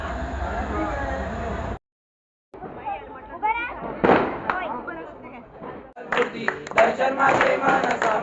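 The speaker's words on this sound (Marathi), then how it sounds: "आता बसल्या बसल्या 4-5 फटाके फुटले, आवाज आला असेल तुम्हाला ब्लॉग मध्ये" Several sharp firecracker bangs burst out in quick irregular succession amid crowd noise and talking at a Ram celebration, with a brief silent gap early on.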